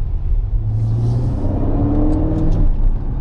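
A Ferrari sports car engine rumbles and revs steadily from inside the cabin, a low continuous drone that swells slightly as it drives.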